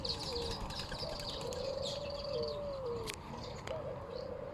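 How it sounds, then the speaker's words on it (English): Doves coo softly amid other birds in a walk-through aviary with chickens and ducks nearby, a steady murmur of calls and chirps over a continuous low background din. "they've actually got a whole bird aviary in here"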